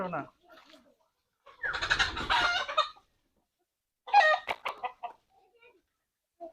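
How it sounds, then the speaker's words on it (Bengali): A chicken clucks and squawks in short, close bursts separated by pauses, with people speaking nearby. "মুরগিটাকে ধরা হবে"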